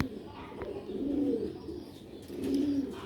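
A female pigeon coos in two soft, low, rolling calls, close by, with faint background noise between them.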